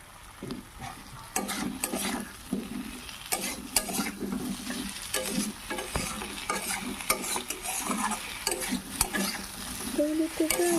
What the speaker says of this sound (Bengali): এখন মশলাগুলি কিছুক্ষণ ভেজে নেব।